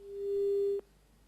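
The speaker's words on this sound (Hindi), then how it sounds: "लगता है फोन कट गया है" A telephone line tone sounds after a caller disconnects during a phone-in broadcast: one steady, clean beep of under a second that then cuts off abruptly, leaving faint hiss.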